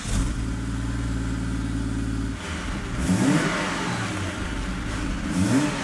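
Ford Falcon with a full Manta exhaust system fitted, idling with a steady low rumble and then revving in a couple of rising surges, close and loud with no talk.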